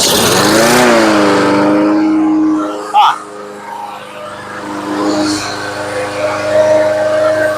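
A Craftsman Professional engine cranks and catches, a steady droning hum that dips after a brief clatter, then settles into a smooth, even idle running close by.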